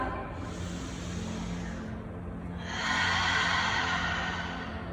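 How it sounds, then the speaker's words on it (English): Slow, audible ujjayi breaths during a home yoga class, a long throaty exhale followed after a short pause by a louder, rushing breath, heard up close with no talking. "Ujjayi breathing."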